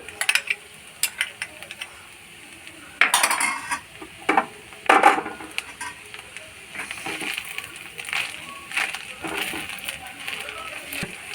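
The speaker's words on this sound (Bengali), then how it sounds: "নাড়ে নেড়ে নিচ্ছি" A spoon stirs doi polao with cashews and raisins in a pan, producing intermittent scraping and metallic clinks against the cookware, moderately close and fairly quiet.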